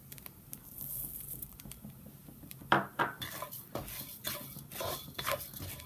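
Coriander seeds roast in a pan with grated coconut, a spoon scraping and clinking against the metal in irregular strokes alongside faint pattering, quiet and close.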